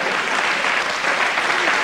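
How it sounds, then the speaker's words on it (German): A short burst of audience applause, many hands clapping in a steady, even patter at moderate loudness, with no talk over it. "Ja, ich finde auch, das ist ein Applaus wert."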